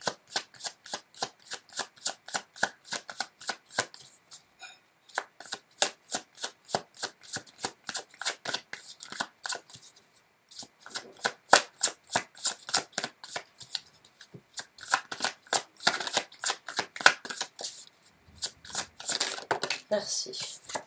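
Tarot cards being shuffled by hand at a reading, a close rapid riffling of crisp card flicks in repeated bursts with brief pauses between rounds, and no voices.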